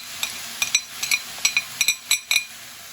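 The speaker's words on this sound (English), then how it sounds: "In goes the bay leaf." A bay leaf dropped into a sizzling pan for a lamb and rice dish, with soft frying hiss and a series of sharp metallic clinks from a spoon against the pan, close up and alone.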